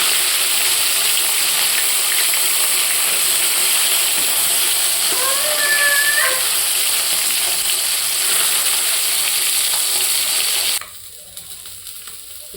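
Fresh pond fish fry in a pan with a loud, continuous close sizzle, a short tonal chirp rising over it midway, before the noise drops abruptly to a quieter hiss near the end.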